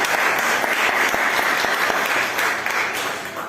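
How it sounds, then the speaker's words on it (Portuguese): A church congregation claps together in sustained, dense applause during a worship service, loud and steady throughout with no talking over it. "Dá uma salva de palmas para Jesus."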